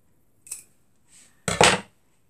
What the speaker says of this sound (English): Let's see if we can't snip this one.